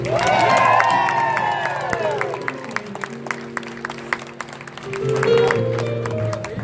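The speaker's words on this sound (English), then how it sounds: "big round of applause for Mr. General Johnson." A live audience cheers, whistles and claps loudly, the roar easing in the middle before swelling again, with scattered shouts and sustained vocal tones rising above the noise.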